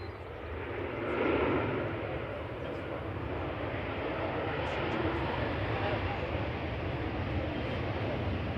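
A Boeing 737-800 airliner arriving from Turin touches down at Manchester Airport with a broad, steady engine roar that swells slightly early on, then holds at a constant distant level.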